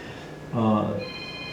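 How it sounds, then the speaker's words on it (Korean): A mobile phone rings briefly and clearly during a church service, its tonal ring cutting in over the room's ambience, with the preacher's voice faint in the background. "어떻게 예배 때마다 이렇게 전화 울리시는 분들이 많아"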